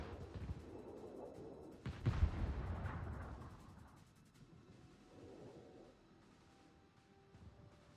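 Heavy warship guns boom in World of Warships during a tournament match, one loud blast with a rumbling decay, then quieter distant gunfire and low battle noise.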